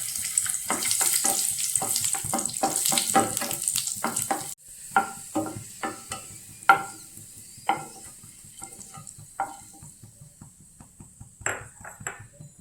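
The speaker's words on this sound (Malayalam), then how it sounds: "ഇനി കിസ്മിസ് വറുക്കാം." Raisins fry in ghee in a pan with a loud, crackling sizzle. Quick spatula stirs tap and scrape in a fast run, then the hiss drops and sparser, sharper stirring clacks continue up close.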